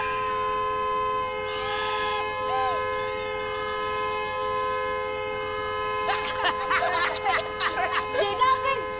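A horn blares in long sustained steady tones at a family gathering, with children and adults talking and shouting over it toward the end.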